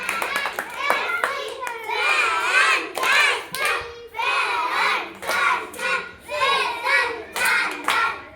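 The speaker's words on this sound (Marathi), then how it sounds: "आता तुमच्यासाठी एकदा जोरात टाळ्या" A group of children in a lesson claps loudly in sharp bursts, the claps mixed with their excited voices and shouts as they speak together.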